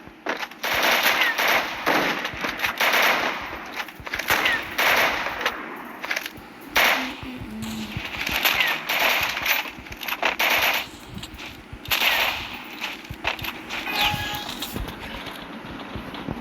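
Sniper rifle gunfire in a video game: a run of sharp, fairly loud shots in irregular bursts, mixed with metallic clangs and clinks.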